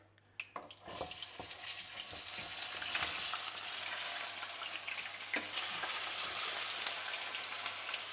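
Crab sizzles and fries loudly in a hot pan, a steady close crackle that swells after an initial drop into the oil and keeps going without talk.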